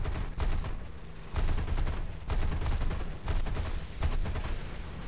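Aircraft cannon fire in the War Thunder combat flight game, heard as several loud sustained bursts of rapid gunfire separated by brief pauses, with engine drone between them.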